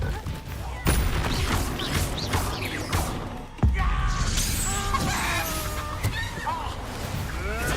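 Expulso exploding spell in Hogwarts Legacy bursts with sharp blasts and shattering crashes amid whooshing magical effects, several hits across a few seconds, loud and close.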